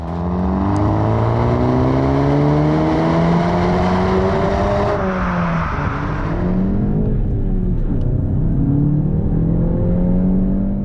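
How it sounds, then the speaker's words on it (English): A 2018 Volkswagen Golf GTI's turbocharged four-cylinder petrol engine pulls hard through the gears, rising to the red line, dipping at a shift, then climbing again, loud and sustained. "It is an absolute pleasure to keep the throttle buried until the engine reaches the red line"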